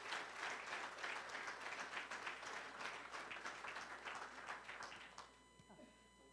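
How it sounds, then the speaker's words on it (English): A standing audience at a conference at the Grand Hotel Reykjavik claps loudly and steadily for an arriving speaker, the applause fading after about five seconds into quieter room noise. "Welcome her by standing up and give her an applause."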